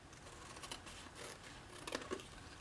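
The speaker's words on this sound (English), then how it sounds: "So we're going to go ahead and cut the side panels of the triangle." Scissors snip through paper to cut the side panels of a folded paper Easter picnic basket, a few soft, close crisp cuts over a quiet hiss.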